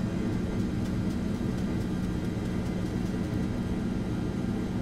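Jet engines of an Airbus A330-243 in X-Plane 11 roar steadily through a takeoff roll in a crosswind, a constant loud broadband rumble with a low hum and no speech.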